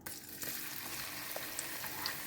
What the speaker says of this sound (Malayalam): നമുക്ക് ചതച്ച് വെച്ചിരുന്ന വെളുത്തുള്ളി ഇടാം.